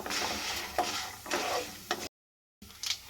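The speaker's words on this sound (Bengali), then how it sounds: "ভালো করে আগে এগুলো ভেজে নেব।" Ingredients frying in a pan on the stove, a close sizzling hiss that swells in stirred bursts, briefly cutting to silence before the sizzle resumes.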